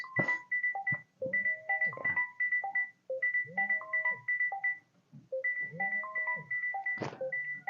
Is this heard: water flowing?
no